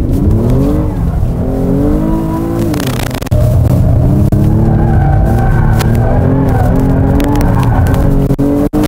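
Kia Stinger GTS engine droning loud and steady as the car slides a little sideways, with a brief dip and surge midway; tire skid is hard to pick out beneath the continuous engine note.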